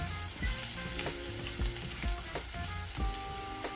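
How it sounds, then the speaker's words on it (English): Garlic frying in a pan for a creamy Tuscan chicken dish, giving a continuous close sizzle and crackle with regular soft thumps and scrapes from stirring, no voices. "So now I'm gonna add in the garlic. Just cook that out."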